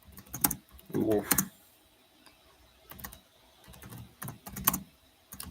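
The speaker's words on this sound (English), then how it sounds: "Just typing something." Someone types on a computer keyboard in short clustered bursts of clicky keystrokes separated by quiet pauses. A voice is faintly audible.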